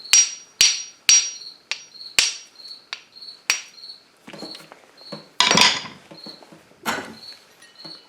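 Sharp metallic strikes of flint on an old claw hammer head, throwing sparks, a dozen or so quick clinks with short scraping bursts, close and loud, no talking.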